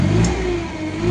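A loader's engine is revved briefly, producing a loud, close mid-pitched roar that holds steady over a short moment.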